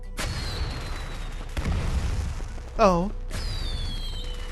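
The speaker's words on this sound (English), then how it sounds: "Wow, a firecracker." Firecrackers burst in the video game Arknights, three sharp cracks spaced over a few seconds, fairly close and loud, with a brief voiced exclamation between them.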